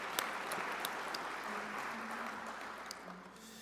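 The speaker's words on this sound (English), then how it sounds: "let us please give a loud round of applause to the DEC and the leadership" A crowd applauds steadily and moderately loud at a listening tour event in Detroit. Scattered sharp claps stand out from the sustained clapping, and a faint voice rises briefly in the middle.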